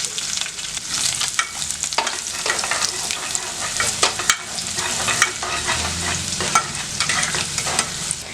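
Finely chopped garlic fries with cumin and curry leaves in a pan for a goat lung fry, giving a steady close sizzle with stirring scrapes throughout and no talk.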